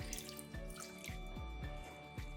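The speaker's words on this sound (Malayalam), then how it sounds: "1/4 കപ്പ് വെള്ളം ഒഴിക്കാം." A quarter cup of water is poured onto jaggery in a pan on a stove for Kerala-style orappam, a faint, short, pulsing splash over a steady low background hum.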